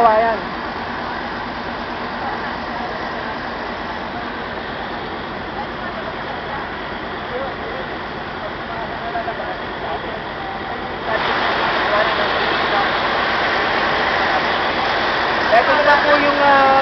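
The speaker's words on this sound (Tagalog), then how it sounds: "Napakalaki po ng uh, makina, dalawa ang gumagana ngayon" Two large flood-control pump engines roar in a steady, loud rumble, draining floodwater toward a river, with a rushing, water-like wash throughout, growing slightly louder partway through.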